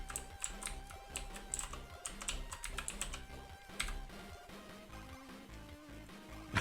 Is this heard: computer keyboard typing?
yes